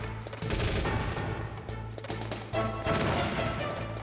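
Stun grenades going off in Metal Gear Solid, a burst of sharp bangs and crackling blasts at around half a second and again near two and a half seconds, loud over game music.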